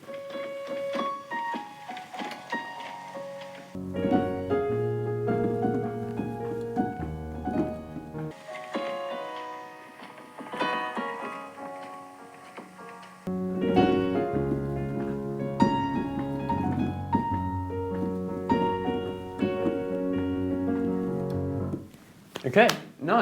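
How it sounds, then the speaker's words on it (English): A short piano melody recorded on a phone and played back, with gentle sustained notes and chords in a slow, wandering phrase, heard clearly with no talking over it. "The other day, when I was playing around a bit with my piano, I found a little melody."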